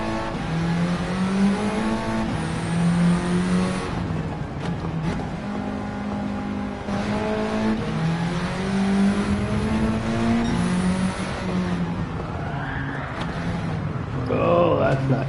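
A small car with a K20 engine swap racing in Gran Turismo 7, its engine revving hard through repeated rising pitch sweeps and gear changes, loud and close, with a voice talking over it.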